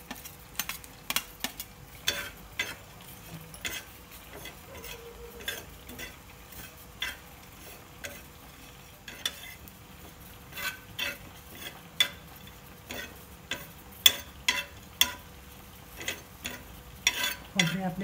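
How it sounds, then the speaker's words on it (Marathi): Dry coconut being roasted in a pan without oil gives repeated sharp scraping and tapping clicks from stirring, scattered irregularly over a faint low background, with no voices. "खोबरे कोरडेच भाजायचे,"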